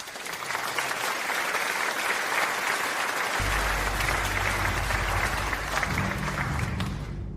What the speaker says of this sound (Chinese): 让我们再次用掌声有请参赛选手落座